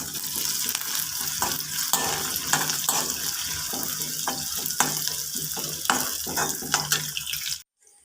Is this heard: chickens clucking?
no